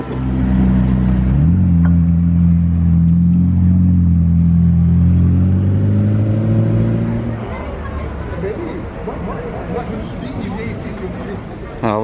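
In Monaco, a McLaren Elva sports car drives by with a strong, throaty engine note that rises as it pulls past. The sound then fades away, leaving a bustling crowd chattering nearby.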